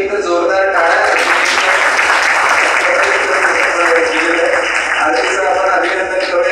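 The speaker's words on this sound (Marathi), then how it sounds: "एक जोरदार टाळ्या" An audience at a college event on the 2025 budget claps, giving a dense, even burst of applause that fills the whole stretch and stays loud and sustained.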